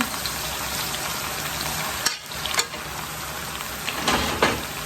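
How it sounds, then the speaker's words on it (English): Steady, dense sizzling of food deep frying in hot oil in a frying pan, continuous throughout with a few brief louder crackles and spatters. "I'm gonna deep fry this"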